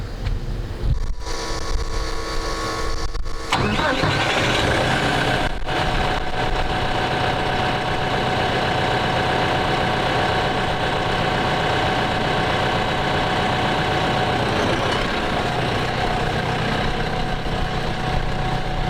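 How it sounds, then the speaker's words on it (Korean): A diesel tractor engine rumbles steadily and close as the tractor pulls forward after a rotary implement is detached, with a couple of brief dropouts early on, then a continuous low mechanical drone with some wind noise. "이제 트랙터를 앞으로 당겨 보도록 하겠습니다"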